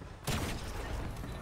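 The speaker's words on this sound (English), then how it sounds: "there's a lot of gunfire over here" Gunfire in the Fortnite video game: a sudden burst of shots that becomes a dense, sustained rattle of rapid fire, loud and close.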